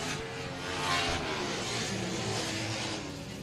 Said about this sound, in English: Love the different sounds of the motorcycles on the racetrack out here today at the Greenfield Short Track.